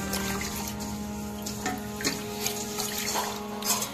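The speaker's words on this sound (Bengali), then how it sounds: "তো চালটা আগে ধুয়ে নিই।" Rice is washed in running water for a vegetarian khichuri with moong dal, giving a quiet, continuous splashing and trickling with small irregular swishes as the grains are rinsed, and no one speaks.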